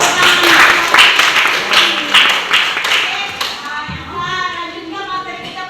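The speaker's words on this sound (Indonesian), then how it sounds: "Oke, bagus. Tepuk tangan." Children in a classroom clap their hands together, a run of quick sharp claps lasting about three seconds that fades into scattered taps and young voices chattering.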